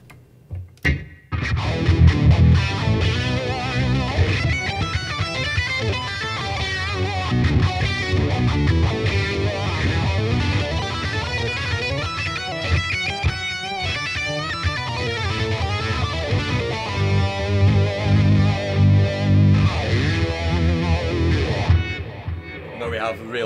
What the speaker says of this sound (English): Have a real sort of thick, dirty sound with an Octavia on a phaser, delay and reverb.